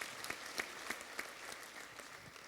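Faint, distant clapping from a panel audience applauding seniors, a thin patter of hands with a few sharper claps standing out in a roughly regular rhythm.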